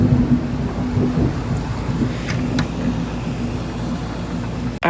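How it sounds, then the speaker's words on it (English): Thunderstorm with a deep rolling rumble of thunder over a steady hiss of rain, loud and continuous throughout, a few sharp drip-like ticks standing out near the end. "Later in the day, a storm came,"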